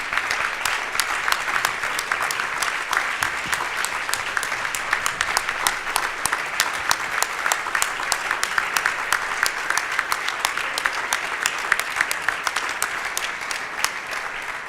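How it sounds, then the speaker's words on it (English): A conference audience gives panelists a long, even round of applause after a discussion on Canada's support for Ukraine, dense clapping sustained for nearly fifteen seconds without letting up. "Let's have a round of applause for a truly concrete, shoulder-to-shoulder discussion for our panelists and for all the healthy comments"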